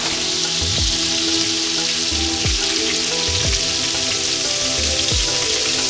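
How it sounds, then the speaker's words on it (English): About two tablespoons of butter sizzling in plenty of hot oil in a pan, giving a steady, bright crackling hiss with a few soft periodic thumps underneath, close and loud throughout. "In the same pan, we have lots of oil here. So we're gonna add a little bit of butter."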